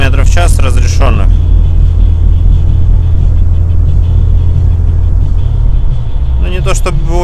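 A UAZ off-road vehicle accelerates on a highway toward 90 km/h, its engine a loud, steady low rumble and whir heard from inside the cabin, with someone talking over it at the start and end.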